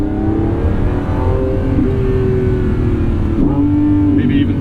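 A Lamborghini Revuelto supercar engine roars loud and continuous during quick downshifts, its pitch sliding with a sharp blip and shift change near the end.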